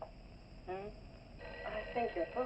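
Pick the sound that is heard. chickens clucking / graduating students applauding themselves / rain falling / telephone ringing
telephone ringing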